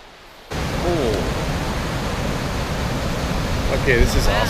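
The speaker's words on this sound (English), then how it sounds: "Hello, Kalama River and a little creek." The Kalama River and a small creek near Kalama Falls, Washington rush and hiss in a steady, close wash of water that starts abruptly after a brief quiet moment, with a few faint chirps over it.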